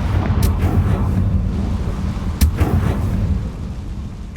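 A Confringo blasting spell from Hogwarts Legacy bursts with a sharp crack near the half-second mark, and a second sharp blast lands later. Both ring over a dense, rumbling low-end backdrop of game sound.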